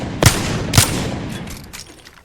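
Two sharp, loud gunshots about half a second apart in the Apex Legends firing range, followed by fainter distant shots and a decaying tail.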